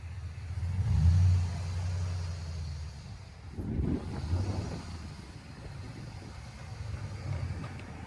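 A GMC Sierra truck with a 6.0L V8 and straight-pipe or Flowmaster Super 10 exhaust rumbles at low pitch, swelling with a couple of revs before settling back to a deep idle, recorded outdoors with some wind noise.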